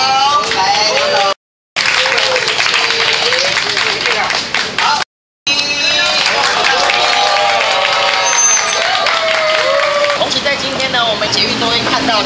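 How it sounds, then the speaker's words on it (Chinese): Clapping at a store ribbon-cutting ceremony welcoming the company chairman, brisk applause from a small gathering mixed with overlapping voices and a host talking over it, broken by two short gaps. "现在我们先掌声有请我们的梁董"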